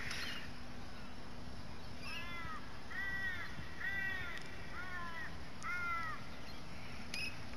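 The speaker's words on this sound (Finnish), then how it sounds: "Ja taustalla jälleen paikallinen varis. Raakkui tai maukui." A crow caws in a series of harsh, repeated calls at the edge of a national park near Sydney, Australia, moderately distant over steady insect drone and low background noise.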